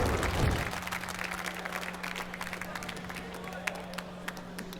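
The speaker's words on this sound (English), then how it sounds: "You hear the Status Quo fans out in the crowd making some noise." Crowd noise from fans at the MLG Dallas Halo: Reach esports finals, a loud broad roar at the start that settles into a steady wash of cheering and scattered claps, with a few sharp spikes near the end.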